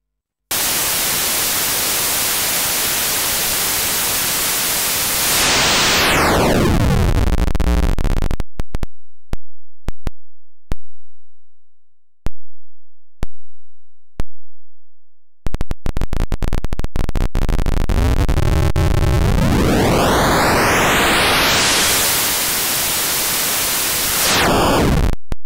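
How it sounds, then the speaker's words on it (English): Broadband hiss from the noise output of a Hexinverter Mutant Clap synth module, swept down into a low rumble, cut to silence broken by a few sharp clicks, then rising back to full, steady static. "The noise output"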